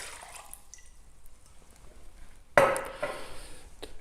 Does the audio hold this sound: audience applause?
no